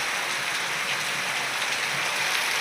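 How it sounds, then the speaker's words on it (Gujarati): Heavy rain pours steadily outdoors in a village, a dense, even hiss of drops hitting surfaces with no break and no voices. "તો મિત્રો વરસાદ ફૂલ ચાલુ થઈ ગયો છે"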